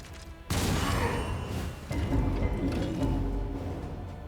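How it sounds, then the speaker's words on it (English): A big mortar fires in the dark fantasy game Darkest Dungeon II, a sharp blast that swells into a heavy, rumbling boom with crackling debris rolling on for several seconds, loud and close. "Big mortar."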